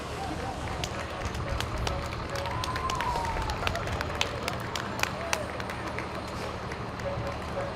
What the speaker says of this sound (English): Let's give a big round of applause for the Lee Police Department